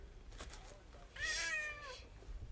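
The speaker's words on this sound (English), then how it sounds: "This is my cat, Draco." A pet cat gives one drawn-out, rising and falling meow in the middle, close and clear over quiet room background with faint low rumble before and after.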